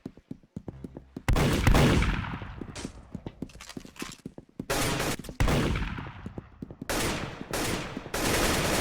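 Windicator gunfire in the Roblox shooter Arsenal: loud, close bursts of rapid shots in several volleys separated by short gaps, with no talk.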